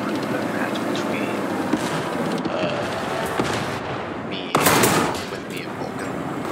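Tank gunfire in War Thunder during a match with Abrams tanks, a sharp cannon blast standing out near the end amid constant engine rumble and battle noise, with someone talking over much of it.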